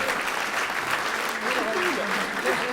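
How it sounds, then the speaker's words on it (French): An audience applauds contestants after a correct answer during a stage quiz in a concert show, a thick continuous clapping texture with a voice briefly rising through it. "Allez, on les applaudit."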